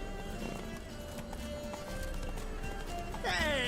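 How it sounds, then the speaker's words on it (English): A horse gallops in The Witcher 3 video game, rapid rhythmic hoofbeats clip-clopping steadily throughout, ending with a loud neigh as a character voice speaks over the galloping. "Hop in the saddle! Gotta catch it! Run, Roach"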